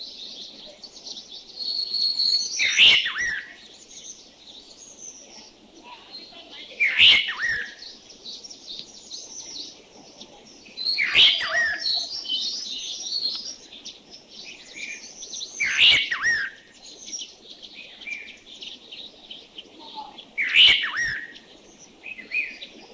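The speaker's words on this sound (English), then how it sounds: "the chestnut-crowned laughing thrush" A chestnut-crowned laughing thrush, recorded in Thailand, sings clear, loud whistled phrases that recur about every four to five seconds over a faint background of insects.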